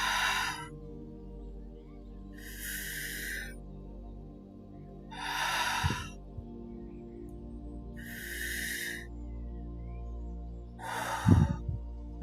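Deep breaths drawn in and let out slowly, five or so airy rushes spaced a few seconds apart against a quiet background, close and soft.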